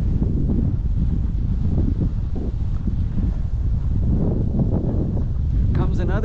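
Gusty wind buffets the microphone with a constant low roar, and a voice is faintly audible beneath it.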